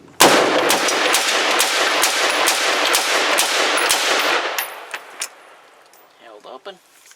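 Rapid string of Armalite AR-10 rifle shots at a shooting range, loud sharp cracks in quick succession for several seconds, then a few isolated reports and faint clatter as the firing stops.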